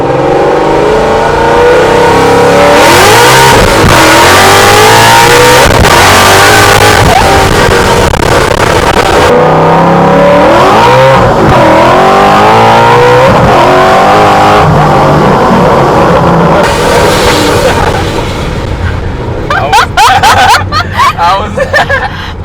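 A modified 1000 HP Ford Mustang engine revs hard and accelerates loudly, with the roar rising and falling through gear changes and people talking over it throughout.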